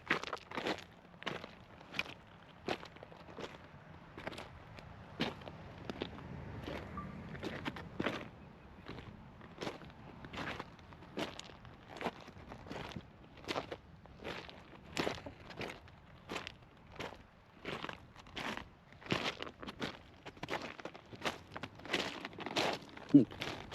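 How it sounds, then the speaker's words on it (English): Footsteps crunch over shoreline rocks at Acadia, a steady near walking rhythm of distinct crunchy steps, about one every second, continuing throughout. "Definitely hear the rocks crunching under my feet."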